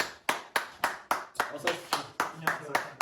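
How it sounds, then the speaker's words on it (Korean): A small audience on a Korean church talk show claps to welcome a guest with about a dozen sharp, evenly spaced claps that sound close and in a steady rhythm, like a handful of people clapping together. "모실 때 큰 박수로 맞이해 주시면 감사하겠습니다."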